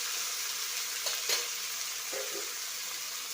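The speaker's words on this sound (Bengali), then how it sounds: "আর গাজরটি ভেজে নিলাম, বেগুনটি ফেলে দেব। এবার নাড়াচাড়া করে" Carrot and eggplant sizzle steadily in hot oil for an eggplant-and-coconut curry, with a few soft scrapes of a spatula stirring the pan near the middle and end; no talking.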